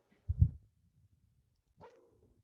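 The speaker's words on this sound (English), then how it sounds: "sorry guys about the dogs." Dogs barking nearby, a loud burst of a few barks followed by a fainter yelp a moment later, in an otherwise quiet indoor room.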